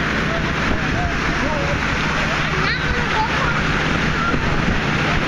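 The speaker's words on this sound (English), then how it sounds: "decent sized waves still coming in" Steady roar of surf and wind washes over the whole stretch, with a voice talking faintly underneath.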